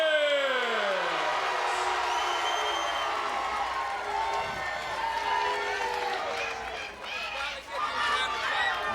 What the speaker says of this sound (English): the crowd is in unbelievable anticipation for this match. They are so loud I can hardly hear you speak